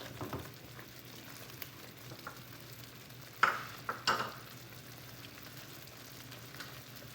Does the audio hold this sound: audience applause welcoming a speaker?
no